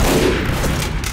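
Rapid gunfire bursts from a shotgun in the multiplayer shooter Team Fortress 2, loud and continuous across the moment with no voices over it.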